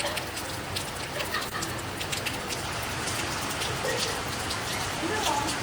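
Steady rain falls at Athirapilly, a dense and even patter that continues unbroken from start to finish at moderate loudness.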